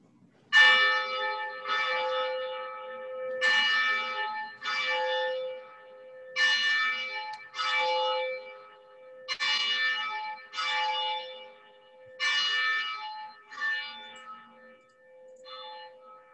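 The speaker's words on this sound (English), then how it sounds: "I am gonna go ahead and spotlight our ringing of the bells." Church bells of St. Hildegard ring out in a slow, irregular sequence of about a dozen clear, resonant strikes, each decaying before the next, heard alone with no talking.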